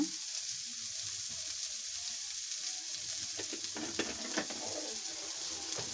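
Turmeric, chili powder and cumin powder sizzle and fry in a hot pan with a steady crackle, while a utensil stirs and scrapes occasionally against the pan.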